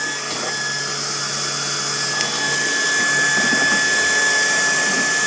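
A small 3D-printed air turbine, sealed with tape and a hot-glued part, runs steadily and pulls suction, giving a continuous whirring hiss with a faint high whine that swells slightly louder midway through.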